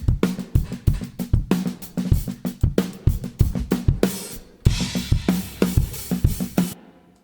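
A full drum kit plays a steady groove of kick and snare hits with ringing cymbals, loud and close, ending in a crash that fades out.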